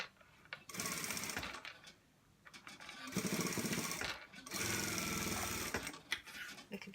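A sewing machine stitches an A-line dress in loud, rapid bursts of a few seconds each, separated by short quiet pauses.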